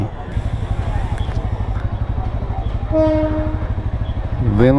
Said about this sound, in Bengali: ট্রেনটা যাক, ট্রেনটা গেলে পর আজকে আড্ডাটা চালু করবো